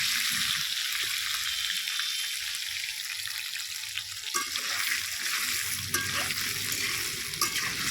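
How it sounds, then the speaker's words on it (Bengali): Thick-cut potato pieces frying in oil, a bright, steady hissing sizzle with occasional stirring clatter and a few low knocks, close and continuous with no talking. "বন্ধুরা দেখুন আলুগুলো এবারে তেলের মধ্যে খুব সুন্দর করে ভেজে নেব।"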